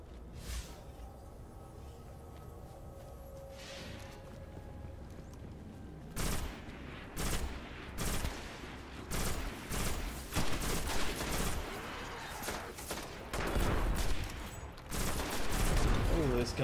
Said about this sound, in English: This gun's got a burst fire. I was expecting it to be full auto.